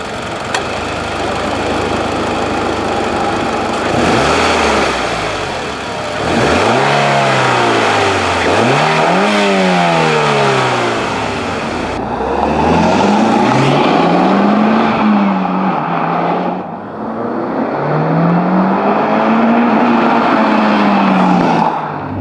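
A turbocharged Mitsubishi Lancer Evolution engine with an aftermarket intake revs hard and close, its pitch climbing and falling in repeated sweeps, loud and continuous throughout.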